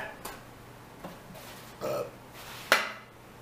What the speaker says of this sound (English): Did you burp?